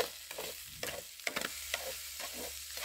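Cooked fish being chopped up in a pan of oil, faint sizzling broken by irregular sharp taps and scrapes of a utensil against the pan.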